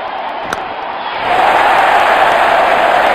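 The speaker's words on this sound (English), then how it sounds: "Crowd is going crazy." Stadium crowd at an IPL cricket match between Royal Challengers Bangalore and Chennai Super Kings, roaring and cheering loudly as a dense continuous wash that swells and grows louder after the first second, with a brief sharp knock early on.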